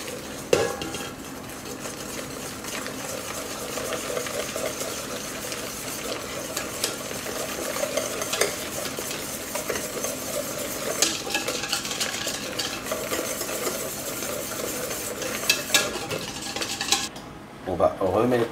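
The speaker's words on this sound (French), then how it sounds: "on va le verser en filet tout en agitant." Boiling liquid is poured in a thin stream into a preparation for a quick strawberry tart while a whisk or spoon stirs against the pan, giving a continuous scraping, clinking and bubbling texture at moderate volume.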